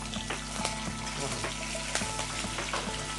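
Chopped green chillies crackle and sizzle in hot oil in a home kitchen pan, a steady close frying hiss broken by small pops and spits that continues throughout the stretch.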